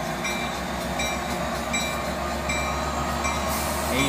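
A train rumbles steadily past a railroad crossing close by, with a dense, continuous roar of wheels and rail noise that holds loud throughout, without a clear pause.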